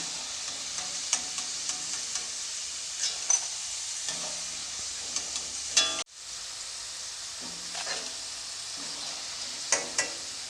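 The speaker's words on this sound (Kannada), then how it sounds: "ಬ್ರೌನ್ ಕಲರ್ ಬರೋವರೆಗೂ ಎಣ್ಣೆಯಲ್ಲಿ ಫ್ರೈ ಮಾಡಬೇಕು" Potato finger chips frying in hot oil give a steady, close crackling sizzle with scattered pops, broken by a brief dip midway as the fries are moved, then sizzling on alone without voices.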